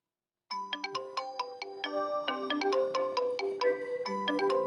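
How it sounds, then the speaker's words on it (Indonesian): Phone ringtone ringing, a bright melodic sequence of synthetic chime notes that starts abruptly after a moment of silence and repeats steadily, close and clear with no talking. "Kita ke sini ada telepon ya. Kita matikan dulu."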